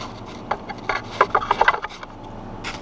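Scraping and rubbing on the gasket sealing surface of a 2007 Honda Civic EX engine's cylinder head during valve cover replacement, a series of short close scrapes in a quick irregular burst, with no talking.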